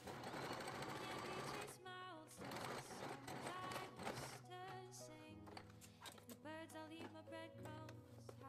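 Sewing machine stitching a white cotton summer dress, running in rapid mechanical bursts separated by short pauses, close and clear with some background music.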